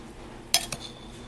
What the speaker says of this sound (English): I'm going to get my scooping spoon here, and I'm going to kind of toss this better.